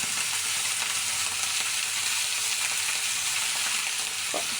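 Vegetables frying in oil in a wok for vegetable khichuri, a steady loud sizzle with crackling filling the whole stretch, a brief stirring scrape near the end and no talk.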